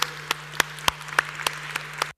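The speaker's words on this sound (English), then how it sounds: "A round of applause." Audience at an economic forum in Chișinău applauds: sparse, separate claps at a slow, even pace over a low steady hum, ending abruptly.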